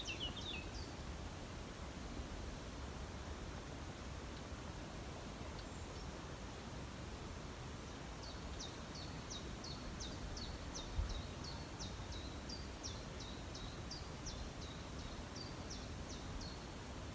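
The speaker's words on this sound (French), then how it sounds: "On peut écouter quelques secondes le bruit des oiseaux," Outdoors, a steady rushing river fills the background while faint, rapid bird chirps come in a quick repeated series in the second half. A single soft thump stands out briefly.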